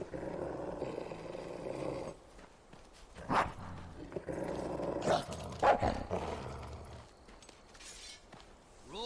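Growling and barking dog in the video game Fable 3, with a long rumbling snarl broken by several sharp, loud barks, close and alone over a low background hum.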